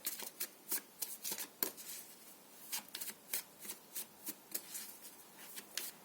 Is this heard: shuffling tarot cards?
yes